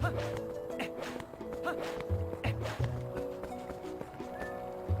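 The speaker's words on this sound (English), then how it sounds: "there's my horse" Horse hooves in Zelda: Twilight Princess clop in a quick, uneven rhythm over a tonal game music bed, the steps close and moderately loud throughout.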